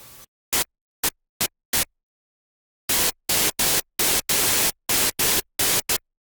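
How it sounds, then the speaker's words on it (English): White noise played in FL Studio as a series of separate bursts: four short hits, a pause, then eight longer blasts in quick succession, each a loud full-band hiss that stops abruptly. "white noise doesn't contain musical information, thus will simply sound the same on each key"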